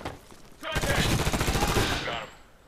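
A sustained automatic burst in Medal of Honor, shooting through wooden boards during house-to-house fighting in Gardez, rattling rapidly and loudly for nearly two seconds before cutting off.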